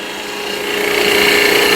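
A hand-held turning tool cuts a wooden spindle with its bevel anchored, giving a steady bright shaving hiss that swells slightly louder over the short stretch, with no voice heard.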